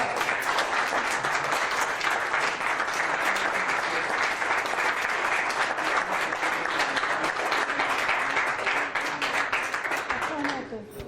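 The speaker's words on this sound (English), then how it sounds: "applause." Audience applause fills a Republic of Texas Congress session, steady dense clapping from a sizable crowd that holds loud and even before tapering off at the end.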